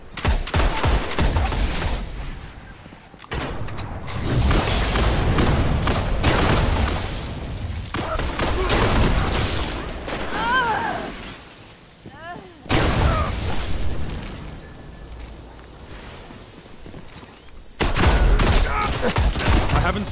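Dense gunfire in a Destiny multiplayer firefight, loud rapid bursts and blasts in sustained waves with brief lulls, under occasional game announcer voice.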